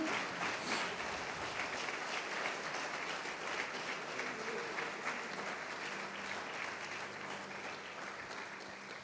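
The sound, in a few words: church congregation applauding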